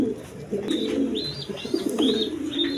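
Pigeons offered for sale cooing repeatedly in soft, rolling calls, several birds close by and overlapping against a quiet background.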